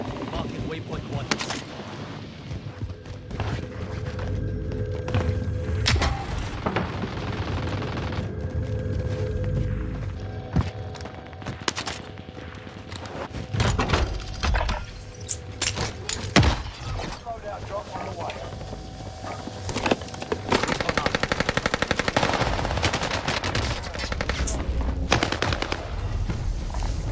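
Gunfire in the video game Warzone: bursts of automatic weapon fire and sharp single shots, loud and close, scattered over nearly half a minute with game sounds and some talk mixed in.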